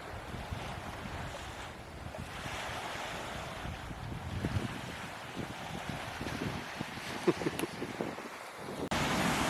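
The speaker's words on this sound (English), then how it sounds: "have a listen. We've got a full-on beach with waves" Waves wash onto a river beach at an outlet on the Darling near Menindee, a rolling, continuous surf rumble mixed with gusty wind buffeting the microphone.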